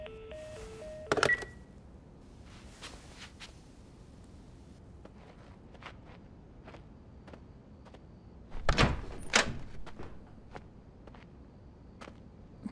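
In The Last of Us, phone keys are pressed, giving short stepped tones at the start. A clunk follows, then scattered clicks and a louder burst of handling noise later in a quiet interior.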